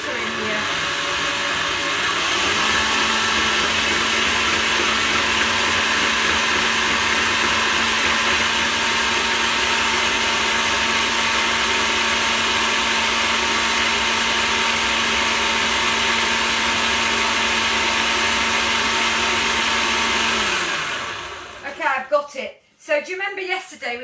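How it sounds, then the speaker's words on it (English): An electric mixer creams very soft butter and sugar for a chocolate cake, giving a loud, steady whirring buzz for about twenty seconds before it cuts off and clattering follows. "it's basically sugar and butter, which I'm going to cream in here"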